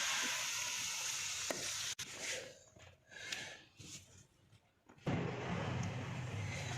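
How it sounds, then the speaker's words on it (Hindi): Potato and mongray curry being dished out of a clay pan into a clay plate, with scraping, stirring and soft sizzling sounds that stop briefly in the middle before resuming louder and closer. "अब इसको मैं डिश आउट करने लगी हूँ"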